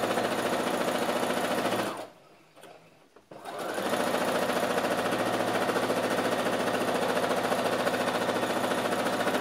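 Sewing machine stitching the seat seams of a belt-style salwar, a fast, steady mechanical rattle that stops briefly for about two seconds, then resumes at the same loud, even pace.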